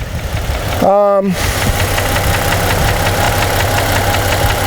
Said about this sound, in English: I definitely have like another sound in that motor when I take 2 off